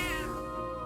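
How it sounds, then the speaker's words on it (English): Cat meowing as it is petted in the game Metaphor: ReFantazio, a single short tonal meow that rises and fades quickly. "Oh, pet the kitty."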